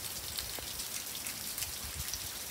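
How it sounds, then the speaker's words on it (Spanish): Rain falls steadily in a soft, faint hiss with scattered drops pattering on surfaces, continuous and without voices. "Y por aquí sigue lloviendo, miren qué rico."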